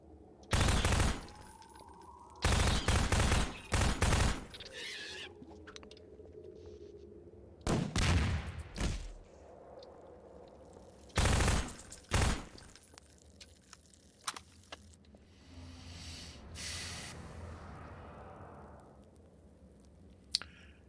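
Bursts of gunfire at alien creatures in Half-Life 2, loud rapid volleys in several separate clusters with quieter gaps of creature squeals and ambient game noise between them.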